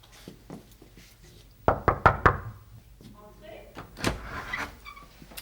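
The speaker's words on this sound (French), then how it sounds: "je vais frapper à la porte" Knuckles rap on a classroom door in a quiet school corridor, four quick sharp knocks in a row, close and clear, followed by another faint knock and some movement.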